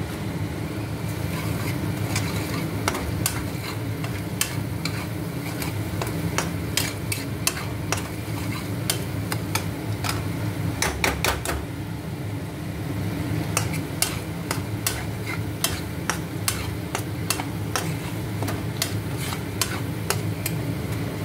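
Spice masala with Kashmiri chilli powder being sautéed in a pan: a continuous low sizzle with a steady run of sharp spatula clicks and scrapes, close by and with no talking.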